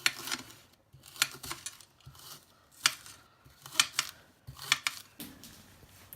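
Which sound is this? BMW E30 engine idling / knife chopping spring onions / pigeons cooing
knife chopping spring onions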